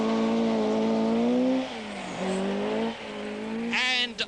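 Hannu Mikkola's 240 brake horsepower rally car at the 1979 RAC Rally, its engine droning steadily and close, easing off and then picking up again, with a burst of higher revving and a squeal near the end.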